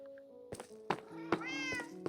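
A group of cats in a video game gives several short, close meows in quick succession, mixed with soft thunks and no talking.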